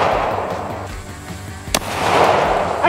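A single sharp gunshot cracks mid-way, fired at a titanium Ridge wallet target, close and loud over steady outdoor wind rumble.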